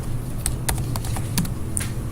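Fingers typing on a computer keyboard: quick, irregular clicks and taps, close and distinct over a constant background hum.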